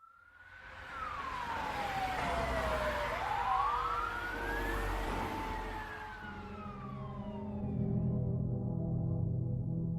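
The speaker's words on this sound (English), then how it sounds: "Seconds later, fire trucks, police cruisers, and an ambulance roared through the small town of Innisfail" Several emergency vehicles race through a small town, fire trucks, police cruisers and an ambulance, their sirens wailing and sweeping up and down in pitch, loud and close over a low engine rumble, with overlapping siren tones continuing throughout.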